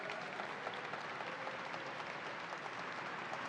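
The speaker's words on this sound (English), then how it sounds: "Let's give a round of applause to Richard Ball" A crowd at the New York State Fair applauds in a steady, even wash of clapping, heard faintly as if from a distance.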